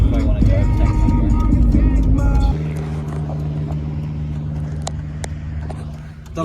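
A 20-year-old stock Jeep drives with a loud, rough engine rumble that abruptly drops to a quieter, steady hum partway through, close by, with scattered clicks and faint voices.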